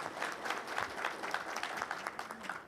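A conference audience claps steadily all the way through, a soft and fairly distant patter of many hands with no speech standing out.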